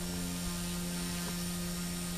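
A Blade 150S RC helicopter hovering with weak tail rotor power, giving a steady mechanical hum and whine that stays constant and fairly faint across the whole stretch, with no voices.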